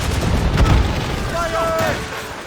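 Ship cannon fire in an Assassin's Creed Rogue naval battle: a deep boom near the start, then rumbling battle noise under shouted voices.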